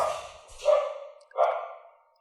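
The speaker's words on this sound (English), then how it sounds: "There's some little doggies barking." Little dogs give two short, high barks about a second apart, fairly close and clear against an otherwise quiet background, with no talking.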